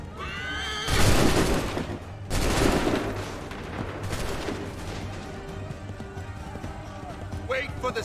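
Volleys of musket gunfire in the Assassin's Creed 3 video game, two loud broadband bursts followed by scattered shots, with a horse neighing and shouted voices around them.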